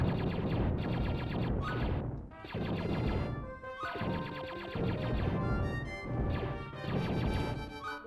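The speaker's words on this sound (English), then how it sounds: "it actually sounds like a blaster" Blaster fire sound effects from a Star Wars game on the SNES, with repeated sharp crashing zaps and impacts packed densely over busy game music, loud and continuous with a few brief gaps.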